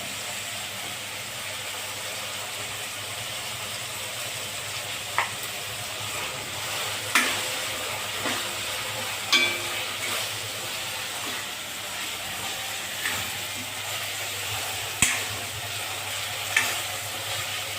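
Ginger garlic paste and tomato sauté for dhaba-style chole: a steady close sizzle with occasional sharp clinks of a spoon scraping and stirring the pan.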